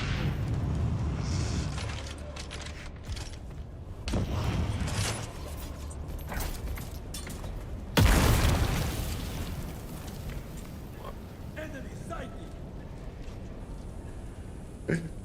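A grenade explodes in a video game: a sudden loud boom that decays into a rumbling tail, set among earlier muffled thuds and mechanical game noise, with faint voices underneath.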